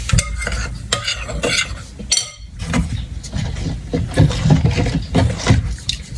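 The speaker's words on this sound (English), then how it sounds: "add my wet ingredients to my dry ingredients" Wet ingredients are stirred into the dry mix, including grated coconut, for a Jamaican sweet potato pudding. Close, wet, sloshing strokes come with occasional clinks of a utensil against the bowl, and the sound is loud and uneven throughout.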